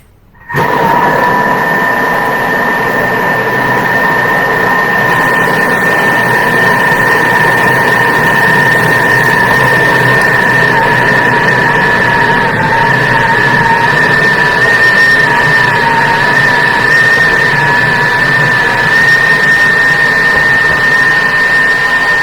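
A kitchen mixer runs continuously on speed 5, a loud steady motor whine with a constant pitch that holds evenly throughout.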